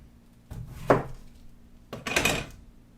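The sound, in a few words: butcher knife cutting open an apple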